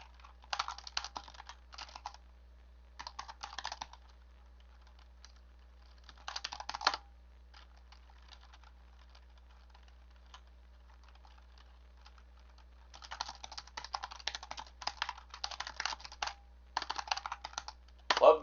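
Clicky computer keyboard typed in several bursts of rapid, crisp key clicks, separated by quiet pauses and ending in a longer dense run of typing, close and clear with no speech.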